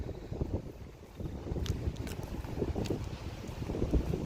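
Wind buffets the microphone in steady, rumbling gusts outdoors at the site of a demolished Kmart store in Meadville, loud low-end roar with no talking.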